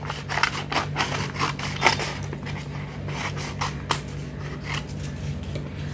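Scissors snip and scrape repeatedly through a craft base while shaping a paper cone, a steady run of short cuts with small crackles, close and fairly quiet, no talking.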